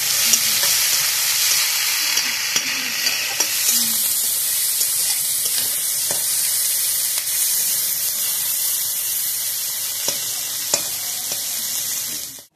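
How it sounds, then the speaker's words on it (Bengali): Sliced onions for berista fry in hot oil in a pan, giving a loud, steady sizzle with occasional stirring scrapes and no talking, until the sound cuts off at the end. "পেঁয়াজটা ভালোভাবে ভাজা হয়ে গেছে, বেরেস্তাটা তৈরি হয়ে গেছে।"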